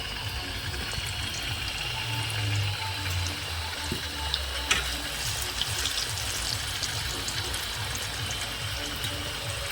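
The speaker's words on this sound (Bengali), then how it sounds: "আমি গরম তেলে নিমকিগুলো ছেড়ে দিয়েছি" Pieces of nimki dough fry in hot oil over a medium gas flame, giving a steady, dense sizzle and bubbling hiss that holds evenly throughout, close and fairly loud, with no talking.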